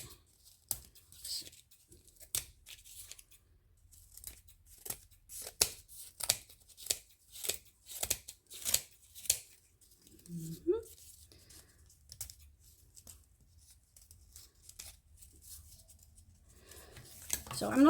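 Scissors trimming paper for a handmade journal door, a string of quick crisp snips and papery rustles up close, fairly quiet, with a brief pause in the middle.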